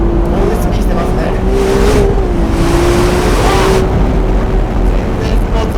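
Ferrari 296 GTS engine pulling hard in second gear in race mode, a loud steady drone with a rising then levelling pitch, heard from inside the car, with talk over it.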